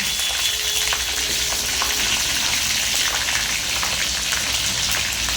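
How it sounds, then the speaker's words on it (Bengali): Potatoes, cauliflower, a handful of green chillies and five-spice seeds frying in a pan, a loud, dense, continuous sizzle with faint crackles and light stirring scrapes, close up and without voices. "কাঁচা লঙ্কা 1 মুঠো ছেড়ে দিলাম, পাঁচফোড়ন দিলাম, আলুগুলো ছাড়লাম, আলু,"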